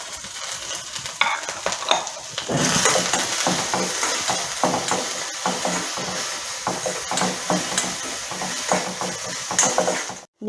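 Onions sautéing with salt in a pan, a steady sizzle with repeated scraping strokes of a spoon stirring, close and loud, with no talking.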